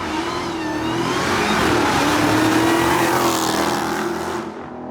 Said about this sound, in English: why the fuck is there a Honda sounding like that?